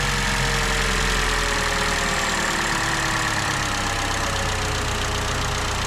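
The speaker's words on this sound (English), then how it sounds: "It's really idling down now." A 2011–2014 Chevy Cruze 1.4 turbo engine idles after an evap repair, a loud, steady close-up drone with a low hum, faint ticking and a slight settling as the idle drops.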